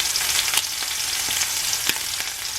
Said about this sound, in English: Don't you just love the sound of sizzling bacon?